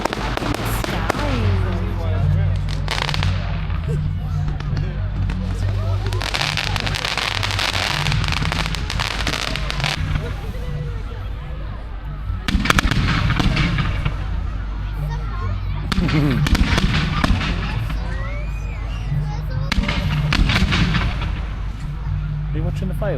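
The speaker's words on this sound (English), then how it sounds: "Are you watching the fireworks?" Bonfire Night fireworks burst outdoors at night in repeated bangs and crackling volleys, some distant thuds and some sharper nearby pops, with people talking over them.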